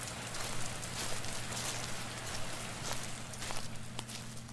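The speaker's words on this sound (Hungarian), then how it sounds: "Gondolom, kénytelenek vagyunk kimenni az esőbe." Rain in the horror game Invitationem, a dense steady hiss of drops on a surface with a low hum beneath and a few faint knocks or steps, close and continuous.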